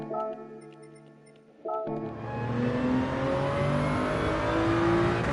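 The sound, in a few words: race car engine accelerating, from the video game Gran Turismo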